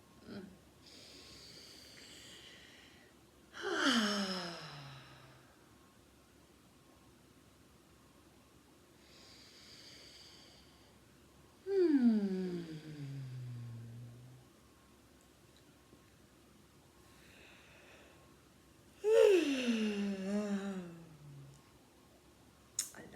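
Slow, deep breathing during a grounding exercise: three long, noisy exhales a few seconds apart, each trailing into a soft voiced, falling sigh, with quieter inhales between, close and alone.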